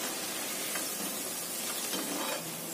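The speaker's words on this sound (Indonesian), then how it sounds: "Kemudian kita goreng yang berikutnya." Tofu batagor fries in hot oil, a dense steady sizzle with a few brief scraping stirs, close and continuous, with no talking.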